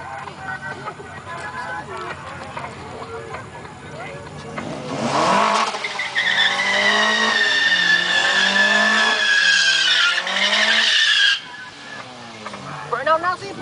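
A Honda EG hatchback does a burnout, its engine revving hard while the tires squeal in long rising and falling shrieks for several seconds, with voices chattering in the background before and after.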